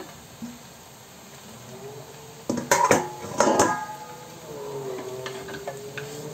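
Fried chicken pieces are tipped into a pan of cooked spice paste, giving a cluster of loud metallic clatters and scrapes against the pan, followed by quieter stirring and faint sizzling.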